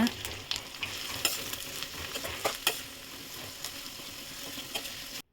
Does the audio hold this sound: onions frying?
yes